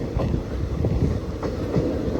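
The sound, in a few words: passenger train pulling into Angadippuram station platform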